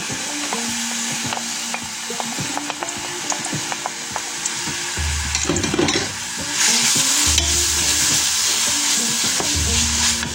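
Finely chopped ginger, garlic, onion and scallion stir-fried in a pan for a cabbage, vegetable and salmon dish: a steady close sizzle with repeated scraping and stirring strokes throughout, growing louder and hissier in the second half, with no talk.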